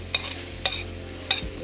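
Food stir-fried in a pan, heard as three short scraping, sizzling bursts from the spatula against a quiet background, close and brief.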